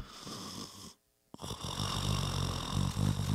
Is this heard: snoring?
yes